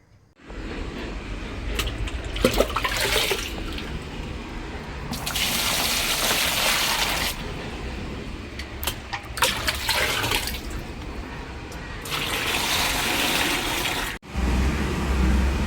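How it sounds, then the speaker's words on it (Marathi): Wild karadu vegetable is rinsed under running water, the tap gushing loudly in several bursts separated by brief quieter moments of splashing and handling. "आता चला आपण भाजी धुवून घेऊया।"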